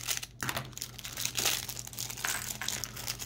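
A plastic bag holding Lego collectible minifigure parts is cut and pulled open, producing close, busy crinkling and crackling of thin plastic with short rustling bursts and no speech.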